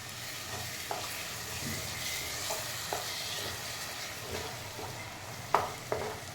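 Cashew halwa mixture being stirred in a pan just after milk is added, a steady soft sizzle with scattered scraping strokes of the spoon, two sharper clinks near the end.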